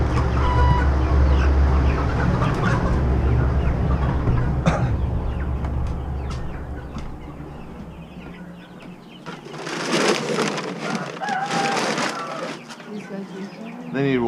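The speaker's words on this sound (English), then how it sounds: "Here you go, turkeys." Turkeys on a farm cluck and call close by, scattered bird sounds over a low hum, with a person talking among them.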